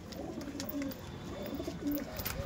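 Madrasi pigeons coo in a steady, low rolling series, several soft calls overlapping close by with no talk.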